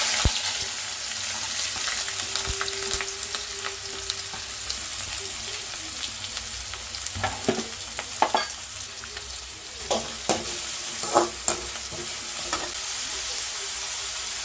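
Three small onions, finely chopped, frying in oil in a pan over low heat while a green chicken curry is being made, giving a steady sizzle broken by stirring scrapes and clatters, close and fairly loud, with no talking.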